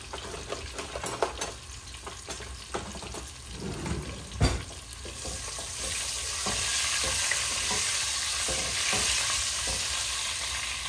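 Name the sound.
eggs frying in a pan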